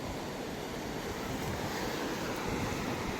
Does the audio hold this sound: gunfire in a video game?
no